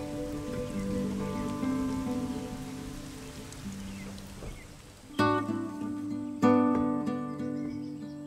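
Steady rain falls in a continuous soft hiss beneath gentle music with sustained tones and a few plucked notes.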